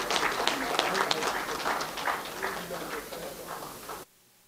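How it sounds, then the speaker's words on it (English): A large audience applauding a professor as he comes to the podium at an NNPP maritime agenda event, dense sustained clapping with some voices mixed in, fading slightly before cutting off abruptly. "please can we applaud him as he comes to this podium?"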